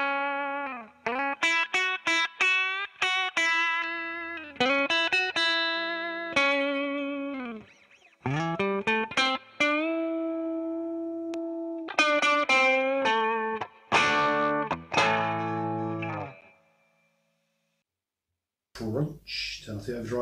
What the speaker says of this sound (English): Clean sounds, probably based on a Fender Twin of some description.